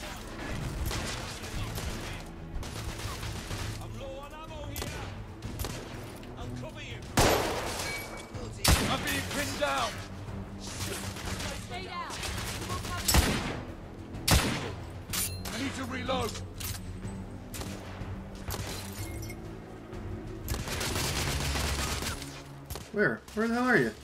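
Third-person shooter gunfire from The Order: 1886 during a firefight, with dense bursts of rifle and automatic fire, ricochets and reload mechanisms under shouted voices.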